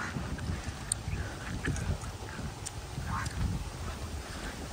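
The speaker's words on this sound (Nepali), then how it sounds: "काग पनि कराइरहेको छ" Crows caw a few times at a moderate distance over the tea gardens of Ilam in hilly eastern Nepal, with short harsh calls spaced apart over a steady low outdoor rumble.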